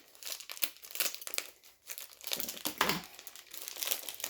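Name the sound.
scissors cutting open an Amazon package sleeve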